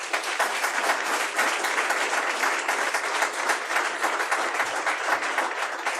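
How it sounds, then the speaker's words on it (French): Crowd at a real-estate awards ceremony applauds a prize being handed over, a continuous, even roar of many hands clapping throughout, close and fairly loud. "sous les applaudissements"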